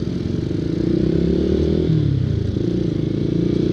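Honda Supra GTR150 motorcycle engine revving close by, a loud, continuous single-cylinder putter rising and falling in pitch for a few seconds with no talking.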